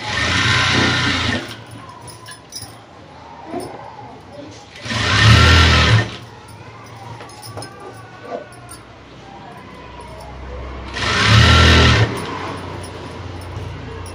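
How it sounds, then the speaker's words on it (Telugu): Sewing machine stitching a chudidhar in a boutique, with three loud bursts of rapid mechanical stitching separated by quieter gaps while someone talks between them. "ఇదిగోండి ఇలా పెట్టేసి ఇది కూడా కుట్టేయాలి."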